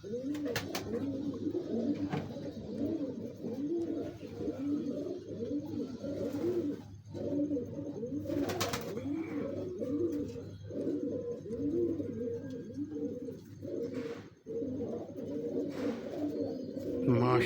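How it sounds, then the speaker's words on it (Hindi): A large fancy pigeon coos in continuous rolling, repeated phrases, close and steady, with a few faint chirps from other birds in the background. "पूरा पाई कबूतर है।"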